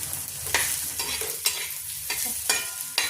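Green peas and onion cooking together in a pan, with a steady sizzle broken by several loud scraping stirs of a spoon about every half second to second, close and alone with no voices.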